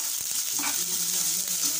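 Two finely chopped onions sautéing in a pan for a cauliflower pepper fry, a brief, even, moderately loud sizzle with faint stirring.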